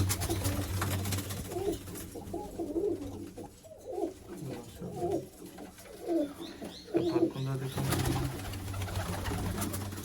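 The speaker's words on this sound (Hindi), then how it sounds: "एक एक कबूतर का आवाज शो करते जाएंगे।" Several pigeons coo in repeated low, throaty phrases, close by, with soft rustling and a steady hum in the background.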